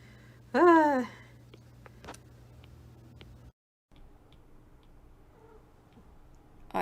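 Pet cat Butterscotch lets out a single clear, drawn-out meow close by, followed by quiet room ambience with faint ticking.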